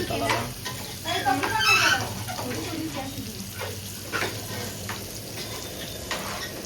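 Surmai fish frying in masala on a tawa at a Konkan coast home in Diveagar, a steady close sizzle with some stirring scrapes, under light background chatter and household noise.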